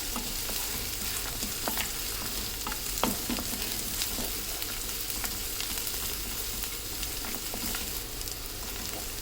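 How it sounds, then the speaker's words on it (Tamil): Onions sauté in a hot pan for a keerai poriyal, a steady dense sizzle with occasional scraping stirs, close and fairly loud throughout. "இந்த மாதிரி நல்லா வதங்கிடுச்சு பாருங்கள்"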